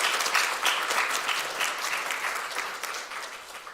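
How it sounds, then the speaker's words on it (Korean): A church congregation claps to welcome a new choir conductor, a dense, continuous wash of applause from many hands at a steady level for a few seconds. "환영의 박수 하겠습니다."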